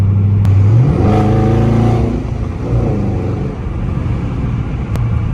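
A Dodge Charger Daytona R/T engine revs loud and close from a low idle, rising in pitch to a sustained roar and then falling back to a deep rumbling burble.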